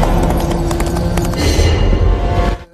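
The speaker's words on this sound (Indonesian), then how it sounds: "Dia melihat kuda berlari menyeret seseorang." Horse galloping while dragging someone, rapid clip-clop hoofbeats close and loud over a dense rumble, cutting off abruptly.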